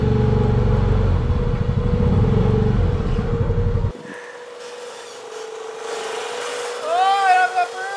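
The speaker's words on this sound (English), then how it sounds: "I can hear that turbo." Turbocharged Honda Pioneer 500 engine running in snow, a loud low drone that cuts off sharply midway, then a lighter whine and rising chirps near the end.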